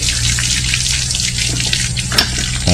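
Water gushes from a freshly repaired hand water pump in a steady, loud rushing and splashing stream that lasts a few seconds, with no talking over it.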